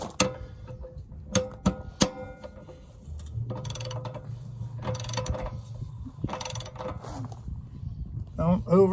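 A socket wrench clicks in scattered ratcheting bursts, close up, as a 1 1/16 socket tightens the drain plug on an RV, with a low hum and some handling noise between strokes.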